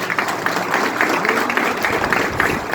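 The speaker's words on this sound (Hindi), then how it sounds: "बस जोरदार ताली साहब" An audience claps steadily and fairly loudly at a gathering, a continuous dense patter of many hands that holds evenly throughout without pause.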